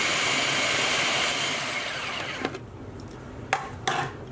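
A food processor runs on high speed with a loud, steady whirring drone as it minces a lamb shami kebab mixture with coriander, then winds down and stops, followed by a few sharp knocks and clicks.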